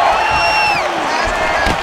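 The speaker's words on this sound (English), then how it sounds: "Crowd may be drunk, but they're absolutely loving it." Stadium crowd cheering and roaring during a UFC 5 video game bout between Muhammad Ali and Tom Aspinall, a steady loud wash of voices with whoops rising over it, a commentator's voice faintly mixed in.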